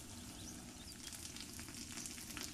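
Steak brushed with sauce sizzles steadily on a grill, a dense, continuous frying crackle with no talking over it.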